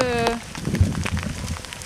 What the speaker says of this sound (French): Bon, il pleut un peu plus du coup.